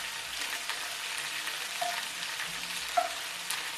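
Floured stew meat browning in a hot pot, an even close sizzle with light crackle and a couple of faint tinks from the pan, no talking.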